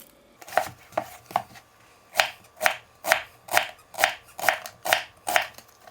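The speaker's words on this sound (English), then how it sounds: "we're just going to peel the onion, and then we're going to half it and cut it in large slices" A knife cutting a peeled, halved onion into large slices on a board, about a dozen crisp rhythmic chops gaining pace and strength, close and alone.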